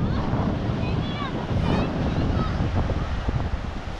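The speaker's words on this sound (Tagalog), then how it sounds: "Nakikita niyo po nagro-roll yung alon doon sa lugar na yun." Ocean waves roll in continuously at Cabangan beachfront, a broad rushing surf mixed with wind buffeting the microphone, with faint voices and chatter in the background.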